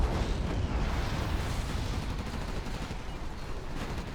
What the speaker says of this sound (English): Massive carpet bombing finding its mark